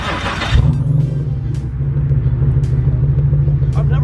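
A Chevrolet SS sedan's engine starts and settles into a steady, deep idle rumble close by, holding an even drone throughout while people talk faintly nearby.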